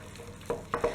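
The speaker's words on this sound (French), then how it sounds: "on vient mettre les œufs un à un en remuant à chaque fois" Close, soft scraping strokes of a spoon stirring choux pastry dough as eggs are worked in a saucepan, with a few distinct strokes in a quick burst.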